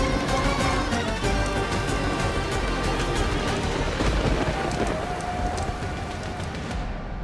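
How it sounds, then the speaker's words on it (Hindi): Heavy rain pours steadily throughout, a dense close hiss of drops on surfaces with occasional sharper crackles, as during a thunderstorm at night. "अब ये बरसात नहीं थमने वाली"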